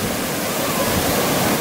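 Broad, steady wash of ocean surf at Little Corona Beach, a continuous close roar of breaking waves with no pauses and no voices.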